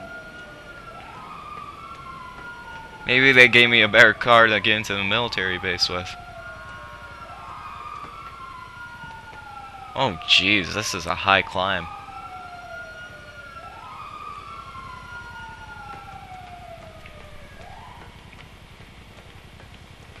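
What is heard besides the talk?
police sirens in a video game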